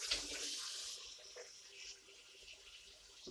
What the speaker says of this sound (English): we're going to use a little bit of water from the tap